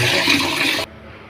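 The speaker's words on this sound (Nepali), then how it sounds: "ढेँडो खानको लागि पानी पसाल्दैछु।" Water poured into a cooking pot to make dhido, a steady close gushing splash lasting under a second before stopping abruptly into quiet room tone.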